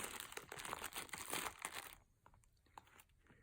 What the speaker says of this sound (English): I wrap it inside of a plastic bag, of course, just in case it leaks.